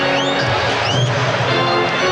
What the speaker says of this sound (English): And that gets the crowd going